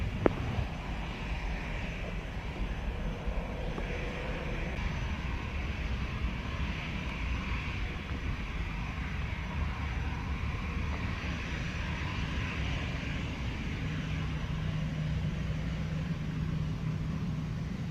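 Airplane at Montego Bay airport in Jamaica, a steady, fairly faint jet engine roar from a distance with light wind noise, continuous for the whole stretch without talking.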